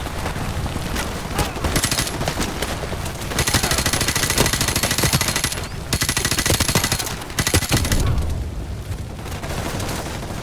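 Gunfire in Call of Duty: Modern Warfare Remastered with the Bad Year cheat: dense bursts of automatic rifle fire crack repeatedly in loud volleys, broken by short pauses, with booming impacts mixed in.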